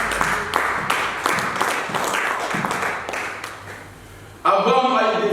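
Congregation clapping during a church service, a run of rhythmic claps that fades before a voice cuts in loudly at the end.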